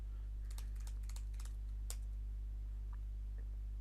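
Clicks from a computer keyboard sound in a quick cluster of keystrokes followed by a couple of isolated taps, close and fairly faint over a steady low electrical hum.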